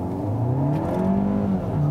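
2020 Kia Soul GT-Line turbo pulling away from a standstill, heard from inside as a steady engine drone whose tone climbs through the gears across two seconds, with no voices.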